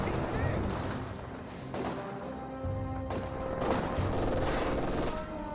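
Sustained MG42 machine gun fire in the real-time strategy game Company of Heroes 2 forms a dense continuous rattle of battle noise, with distant-sounding bursts and impacts layered under steady game ambience.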